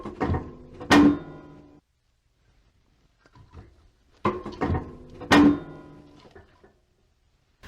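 A wood-burning stove door swings shut with a metallic clunk and latch, followed by a second knock and clatter of the air control, two distinct bursts close by separated by a quiet pause.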